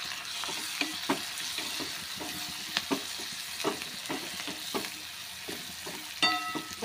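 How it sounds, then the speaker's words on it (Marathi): Onion sautés with cumin and turmeric in a hot pan, giving a steady sizzle broken by repeated scrapes and knocks of a stirring spoon. The cooking sounds are close and there is no speech. "आता मस्तपैकी कांदा परतला गेला आहे"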